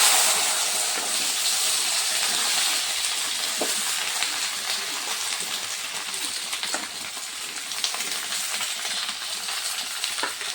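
Green chillies fry in hot oil with cumin for a homemade green chilli sauce, giving a steady, close, loud sizzle with faint crackles and pops throughout.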